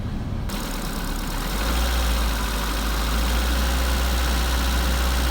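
A car engine runs steadily at a raised, constant 2000 to 3000 RPM, a loud continuous low hum and rumble with no voices.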